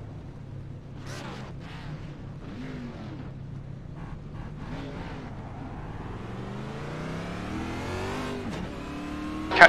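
A race car engine in the Fortnite video game climbs steadily in pitch as it accelerates, with a rising whine building over several seconds, some brief mechanical clatters and a faint voice underneath.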